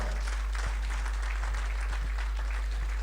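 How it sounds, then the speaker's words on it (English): Graduation ceremony audience applauding a class, a steady wash of clapping from many hands over a low electrical hum, fairly even throughout. "Can you give them a round of applause?"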